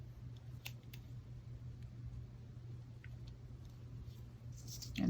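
Scissors snip the top off a paper stem in a quiet craft room: two or three faint, quick clicks close by, with low background hum and no talking.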